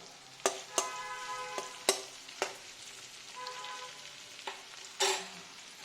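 Ginger frying in a pan for a Bengali chickpea soup, with a quiet background sizzle broken by a string of sharp stirring and scraping strokes spaced unevenly through the clip.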